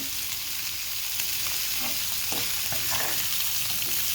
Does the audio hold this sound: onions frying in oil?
yes